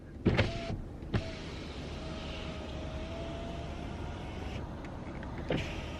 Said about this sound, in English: I'm going to set the window down so you can hear that it's much quieter now